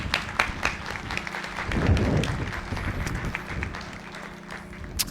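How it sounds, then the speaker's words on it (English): Audience applause at a university commencement ceremony: scattered, moderate clapping with a brief swell, continuing at a fairly even level throughout. "Let's give her another round of applause, please."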